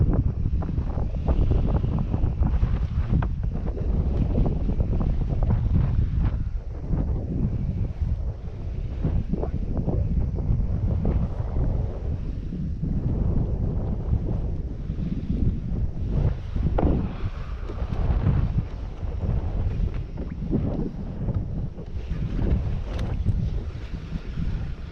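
Strong wind blows across open water during a redfish fishing trip, roaring and buffeting the microphone nonstop with loud, rumbling gusts throughout.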